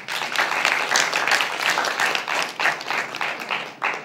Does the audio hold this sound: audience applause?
yes